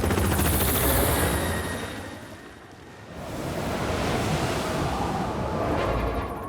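A helicopter in an animated children's Christmas story flies through snow, its loud, steady whooshing rotor roar briefly dipping before swelling again, with no talking.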